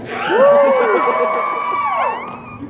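A convention panel audience screams and cheers loudly, a dense crowd roar with high whoops that swells and then fades over a few seconds.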